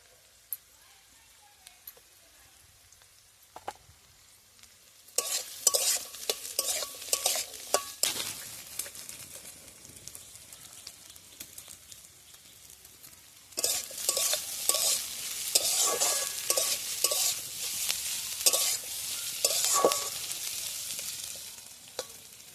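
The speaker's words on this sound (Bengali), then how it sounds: "বেশি ভাজবো না একটু হালকা লাল হয়ে গেলে" Sliced onions sizzle and fry with potatoes in a pan, stirred with a utensil in bursts of scraping and clatter over a steady, close frying hiss that grows louder in the second half; no voices.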